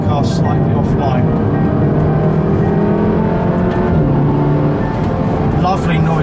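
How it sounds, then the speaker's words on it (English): A Volkswagen Golf R driven hard, its engine revving steadily and climbing through upshifts, loud and close throughout. "Lovely noise and upshift."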